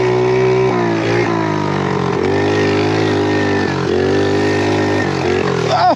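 A small pit bike engine revs hard and continuously while being ridden, its buzzing pitch rising and dipping with throttle changes, loud and close throughout.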